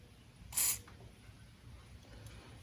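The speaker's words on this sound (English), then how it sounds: "I'm gonna spray a little bit of WD-40 in here." A single short hiss of WD-40 spray lubricant on an intake manifold, about a quarter second long, close by and loud against a quiet background.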